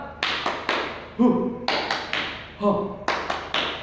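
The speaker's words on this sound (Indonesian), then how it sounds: "Tepuk semangat." A group performs the Indonesian 'tepuk semangat' spirit clap, crisp rhythmic handclaps in quick patterned bursts, punctuated by short chanted voices between the clapping sequences.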